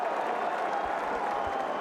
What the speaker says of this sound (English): and hear that cheer, folks